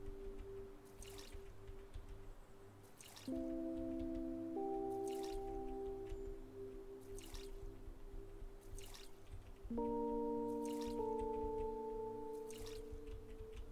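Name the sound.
watering plants in the video game OMORI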